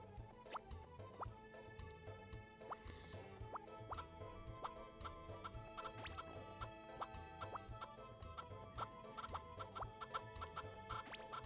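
Chickens clucking in the Nintendo 64 farming game Harvest Moon 64, a busy stream of repeated short clucks mixed with small plopping game sounds, steady and fairly quiet.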